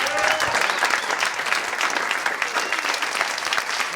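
Comedy club audience bursting into sustained applause for a stand-up comedian, dense clapping with a little crowd noise, loud and continuous throughout.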